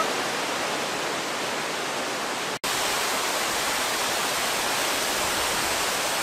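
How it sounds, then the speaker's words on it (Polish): A tall waterfall in the Tasmanian wilderness, about 104 metres high, roaring as a dense, constant hiss of falling water, loud and close, with a brief dropout partway through. "Tu jest wodospad."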